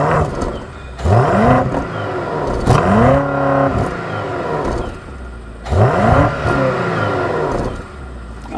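A BMW X6 M60i's European V8 revs hard three times, each blip rising sharply then falling back to a throaty idle, loud and close with a rumbling exhaust between the bursts.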